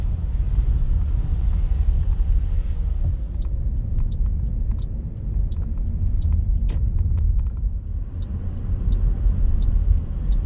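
A car drives along the road on the way to Panmure Island, a low steady rumble of engine and tyre noise with faint clicking ticks, like a turn signal, in the middle section.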